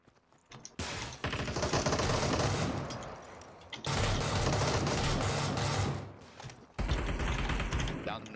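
Sustained automatic gunfire from the battle royale video game Super People fills two long stretches, a rapid rattling fusillade that breaks off and resumes, near and loud.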